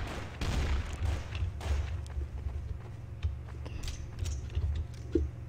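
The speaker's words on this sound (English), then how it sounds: "So much gunfire" Dense gunfire rattles through a Roblox game, a steady barrage of shots and thuds with a louder burst near the end, no voices over it.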